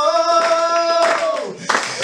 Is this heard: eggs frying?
no